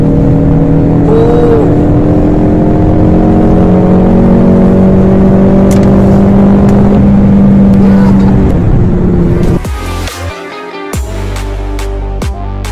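A Ford Mustang sports car drives steadily with a sustained engine drone and road rumble, then the sound cuts to sharper, broken noise near the end; no one speaks.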